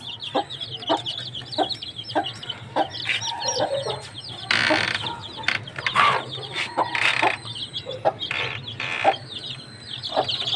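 Hens clucking alongside newly hatched chicks, with a steady stream of high, rapid chick peeps running throughout, broken by a few louder hen clucks and calls in the middle; close and lively, with no talking.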